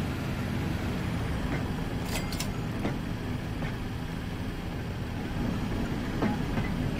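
Tram running in the Transport Fever video game, a steady loud rumbling drone throughout, with a few faint brief clicks and squeals over it and no speech.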